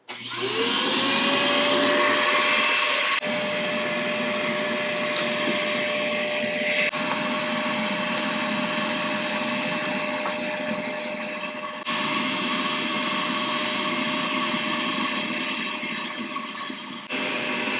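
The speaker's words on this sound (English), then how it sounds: "we'll go ahead and turn on the vacuum and get a vacuum going." Shop vacuum running during a fluid line repair on a John Deere 3038e compact tractor, a loud, steady whining drone with a constant high tone that holds for the whole stretch, broken by a few brief bumps and shifts, no talk.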